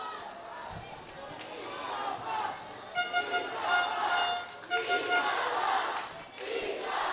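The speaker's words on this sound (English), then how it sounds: "Crowd making themselves heard here at the Iloilo Sports Complex" A football crowd cheers and roars at the Iloilo Sports Complex during a PFL match between Kaya FC-Iloilo and United City FC, a broad sustained wash of voices swelling in waves, with horn-like toots and chants rising through it.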